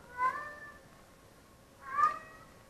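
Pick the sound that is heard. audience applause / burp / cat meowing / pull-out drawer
cat meowing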